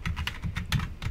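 Rapid keystrokes on a computer keyboard as a command is entered for Minecraft, a close, steady run of clicky taps with no talking.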